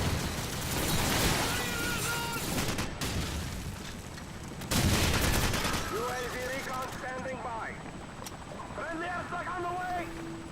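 Call of Duty 4 gunfire on PS3 in a Ground War Domination match crackles in rapid bursts and sprays, with people talking over the shooting.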